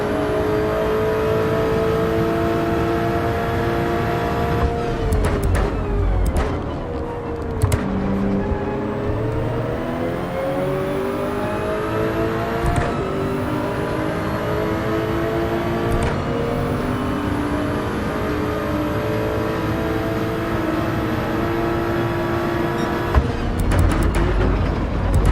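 A Subaru BRZ engine in Gran Turismo 7 drones and whines steadily through a race, its pitch dipping and climbing again during gear changes. The car is close and moderately loud and nobody speaks over it.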